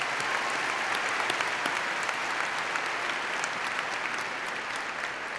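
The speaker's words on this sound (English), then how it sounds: "Let's give them a round of applause" A crowd applauds steadily at a high school commencement ceremony, a dense, even wash of many hands clapping throughout with no pauses.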